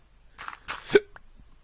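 A person with a cold lets out a single short, sharp hiccup close by, with faint breathy noise just before it in an otherwise quiet room.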